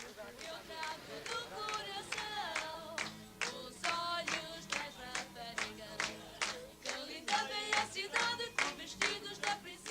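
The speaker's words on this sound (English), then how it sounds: "sitting on an Indian veranda, clapping time to a lively Portuguese tune" A group of people on a veranda in Panjim, India, clap steadily in time to a lively Portuguese tune, sharp rhythmic handclaps ringing out close by over the music and singing.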